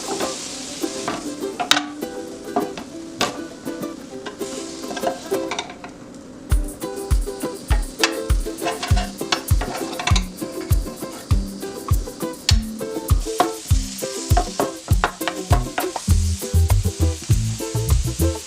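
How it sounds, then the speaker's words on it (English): Tofu and Brussels sprouts sauté in a pan, making a continuous sizzle broken by frequent sharp scrapes and taps of a utensil against the pan, close and busy throughout. "Saute everything until the tofu gets those beautiful golden grill marks and the Brussels sprouts turn"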